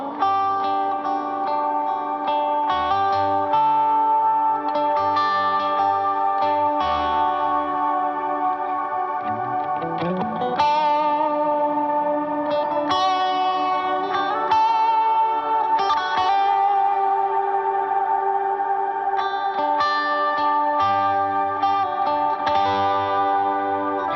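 Electric guitar played through a GFI Systems Skylar reverb pedal with volume swells, sustained chords blooming in and washing into a dense, shimmering reverb tail, steady and loud with no talking.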